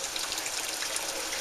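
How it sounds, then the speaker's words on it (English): Boiling water pours steadily into a bowl holding molasses for homemade bread, a continuous close splashing hiss with no pause and no talking. "a little more hot water."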